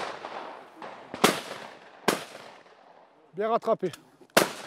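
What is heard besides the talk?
shotgun shots at clay targets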